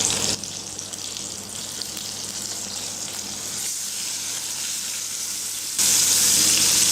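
Restaurant-style tandoori chicken pieces fry in hot oil in a kadai, giving a dense continuous sizzle that swells louder near the end, close and without talk.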